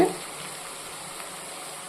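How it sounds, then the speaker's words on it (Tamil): Soft, steady sizzling of onions and curry leaves sautéing in oil, a low continuous crackle with no talking. "வெங்காயமும் கருவேப்பிலையும் சேர்த்து எண்ணெயில் நல்லா வதக்கிட்டோம்"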